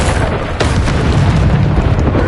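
Bombarda spell explosion in Hogwarts Legacy, a loud, roaring blast that fills the moment with a heavy rumbling wash and a sharp crack partway through, close and sustained.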